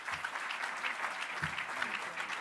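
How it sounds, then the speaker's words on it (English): Steady audience applause for U.S. Rep. Tammy Duckworth at a City Club of Chicago event, moderately distant and even, with a voice briefly heard beneath the clapping. "Round of applause, Tammy."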